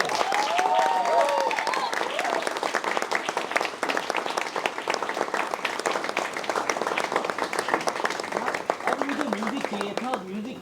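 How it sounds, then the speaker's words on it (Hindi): A crowd applauds steadily at a theatre stage event as the producer is called up, dense clapping continuing throughout while a voice speaks over it. "जोरदार तालियों के बीच मैं स्टेज पर बुला रहा हूं योगेश जी को"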